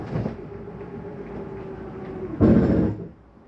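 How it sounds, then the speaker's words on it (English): On a 2023 Jayco Eagle 30.5 RSOK travel trailer, a slide-out motor drones steadily as the room retracts, then a louder mechanical clunk and grinding burst marks it reaching the fully closed stop, with no talking. "That's just the slide mechanism telling me that it's all the way back in."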